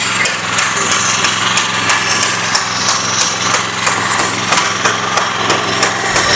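A rice transplanter's small engine runs in a paddy field, a loud, steady buzzing drone with a rapid rhythmic mechanical ticking repeating throughout, continuous with no pauses.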